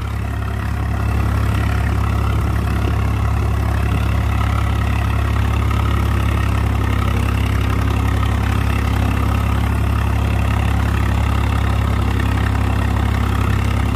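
A Swaraj 735 FE tractor's diesel engine runs steadily at about 1500-1600 RPM with a cultivator hitched behind, producing a loud, constant low rumble and drone throughout, with no voices.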